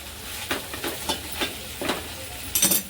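Bitter gourd (karela) sabzi sizzles steadily in a pan while a spoon stirs it, with several rhythmic scraping strokes over the continuous frying hiss and a louder clatter at the end, close up and without speech.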